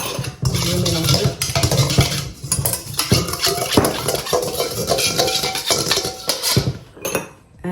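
A spoon stirs colombo and massalé spices with olive oil in a metal pot, giving steady scraping and clinking against the pot close up, with no talk.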